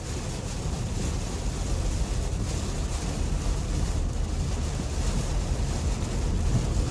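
Heavy rain drumming on a 2018 Nissan Armada SL during a drive, a steady loud wash of water and road noise heard from inside the cabin, with no talking.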